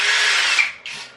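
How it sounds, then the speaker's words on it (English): A handheld power drill with its clutch set drives screws during an RC4WD K10 model build, whining loudly and steadily, then briefly stopping and restarting in a second short burst, close up with no talk. "Even though I have the clutch set on the drill"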